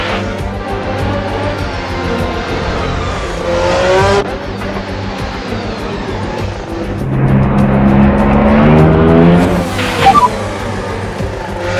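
An F1 car in Assetto Corsa runs the Akagi touge course, its engine loud and close as it climbs through the revs. Abrupt pitch drops mark gear shifts, with a brief squeal of tyres.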